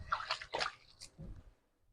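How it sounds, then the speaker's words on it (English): Hands being washed under a running kitchen tap while cooking, a short splashing and sloshing of water in bursts that fades out over about two seconds. "I'm going to wash my hands real quick."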